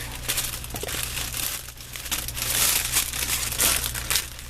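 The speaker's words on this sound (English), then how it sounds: "So let's cut another little piece off." A small strip being snipped off a piece of paper or card for a Christmas craft made from recycled materials, heard up close as dense crinkling and cutting rustle over a steady background hum.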